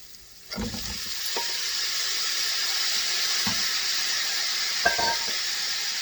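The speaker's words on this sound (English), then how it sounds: "And hear that sizzling." Shrimp hits hot frying oil and a steady, hissing sizzle starts and continues, with a few soft clinks of utensils against the pan.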